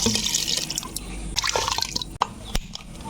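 Water splashing and pouring steadily into a cooking pot up close, followed by a few drips and a couple of light knocks.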